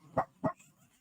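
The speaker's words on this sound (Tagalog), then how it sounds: "maingay ang aso" A dog gives two short, sharp barks in quick succession, fairly faint and somewhat distant, followed by quiet.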